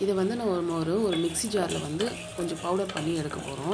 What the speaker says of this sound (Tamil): அது நல்லா பொரியிற சத்தம் கேட்கும்.